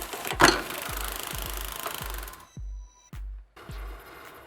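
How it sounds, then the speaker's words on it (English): A lathe trims down PVC pipe caps, running with a steady whirring hum and a repeating low thump, then stopping and restarting in short bursts near the end. "Mount the caps on my lathe to trim them down a bit."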